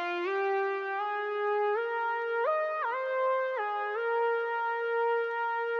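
A bright synth sample, pitched up to key and time-stretched to tempo, plays a short melodic phrase of sustained notes with stepwise pitch changes. It is clear and alone, with no voices.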